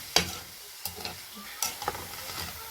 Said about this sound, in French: faut bien laisser tout ça mijoter. Mélanger bien